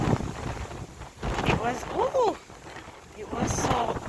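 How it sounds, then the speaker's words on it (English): Heavy rain with huge raindrops falls on a dark, windy day, heard as a broad steady wash with gusty swells, while voices talk over it and a window is handled nearby. "These raindrops are huge."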